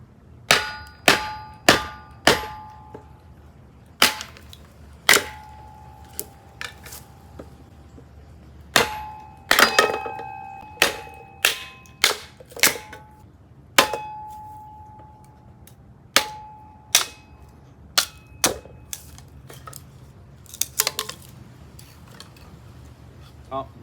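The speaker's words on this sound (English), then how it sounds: "And it's a 3-pound hammer." A 3-pound hammer strikes the top of a scrap metal kindling splitter set on pavers, splitting birch: a long series of sharp, ringing metallic clangs at irregular intervals, loud and close, with occasional speech between blows.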